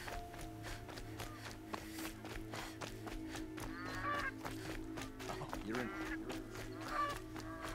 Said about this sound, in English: Get out of the way, geese.